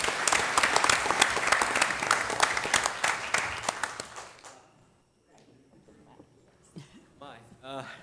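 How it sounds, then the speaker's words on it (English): An audience at a Hampton school board meeting claps loudly and steadily for about four seconds before the applause fades out, leaving a quiet room and then a voice starting to talk. "Let's give him a round of applause."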